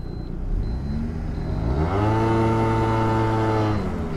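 A Peugeot Speedfight 4 two-stroke injection scooter accelerates hard, its buzzing engine note climbing steadily in pitch and holding high, loud and close, with no talk.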